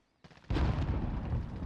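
Distant gunfire in Warzone crackles in a dense burst, with a soft rattle first and then a sustained rumble of shots.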